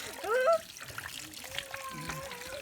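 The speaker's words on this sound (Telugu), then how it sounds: "చేపలు అయితే కడుగుదాం ఇప్పుడు." Water running over fish as they are washed, a soft trickle and splashing under voices talking, with a brief louder splash at the start.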